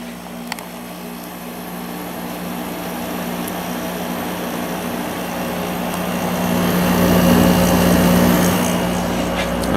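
An Emerson Quiet Cool 6300 BTU air conditioner with a Matsushita compressor runs on low, giving a steady close hum and fan drone that swells slightly louder toward the end.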